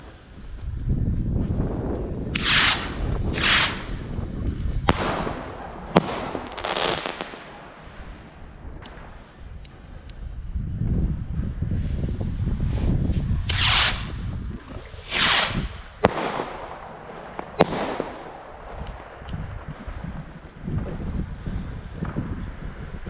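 New Year's Eve fireworks crack and bang in the open, with several sharp flashbang firecracker reports and bursts over steady wind rumble against the microphone, some blasts close and loud, others more distant.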